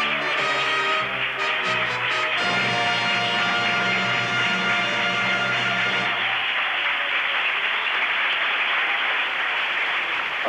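A large audience at the Eurovision Song Contest 1971 applauds in a dense, continuous roar, with bright music playing over the clapping for the first six seconds before the applause carries on alone.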